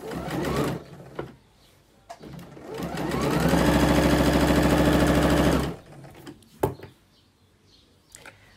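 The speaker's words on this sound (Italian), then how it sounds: "sta cucendo la fodera." Sewing machine stitching the lining fabric of a handmade bag: a steady, loud motor whir with rapid needle chatter running for a few seconds, bracketed by brief handling clicks and thumps before and after.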